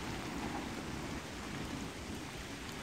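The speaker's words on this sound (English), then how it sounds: "it's raining so heavily" Heavy rain pours steadily near a railway viewpoint at Dalmeny, a dense continuous hiss with low rumble and no break throughout, loud and close with no voices.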